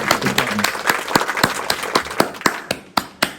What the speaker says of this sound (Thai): ขอปรบมือให้กับฟิลิปปินส์